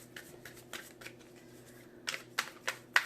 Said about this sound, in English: I usually wait for one card to flip out, and that's my sign. That's end of the shuffle.